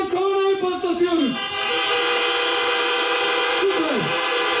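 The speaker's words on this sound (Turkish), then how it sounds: "Ardından kornayı patlatıyoruz." Car horns honk at a drive-in cinema event in Rize, with two long, loud blasts in the foreground over steady background noise.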